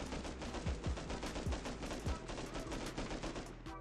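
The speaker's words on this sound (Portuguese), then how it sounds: "A gente atirando na cama, a cama some." Rapid gunfire in the mobile survival game Rust Mobile, shots fired at a bed in steady fast bursts, loud and continuous throughout.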